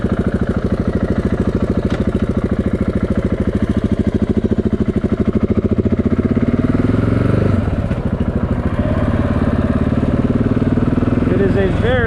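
A 2013 KTM 690 Enduro R single-cylinder engine idles steadily with a loud, even thumping pulse just after an ECU flash and idle reset, its pitch shifting slightly midway, with a voice talking over it.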